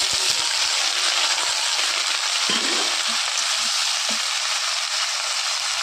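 Eggplant pieces frying in hot oil with fenugreek seeds, a loud continuous sizzle with a few stirring scrapes and thumps, close up and with no voices.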